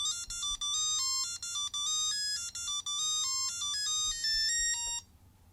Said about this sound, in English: when you first turn this on, you actually hear the Sonic actual music